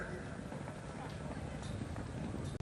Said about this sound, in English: They're really running. This is a horse race, ladies and gentlemen.